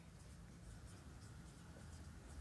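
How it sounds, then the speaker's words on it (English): Writing by hand during a maths lecture on compact metric spaces, soft continuous scratching strokes of pen or chalk, faint and steady against a low room hiss, no talking. "So let me write here."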